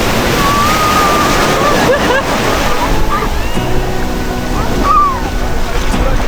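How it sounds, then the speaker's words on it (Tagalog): Strong ocean waves roar and crash continuously on a beach in Japan under gusty wind buffeting the microphone, with faint voices calling out in the background. "Nakakatawa kung sobrang lakas ng alon ngayon."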